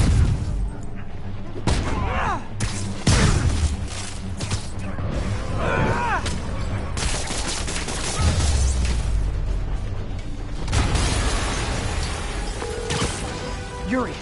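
Spider-Man video game combat with dense crashing, bursting and booming impacts and explosive blasts, loud and continuous over game music and effects.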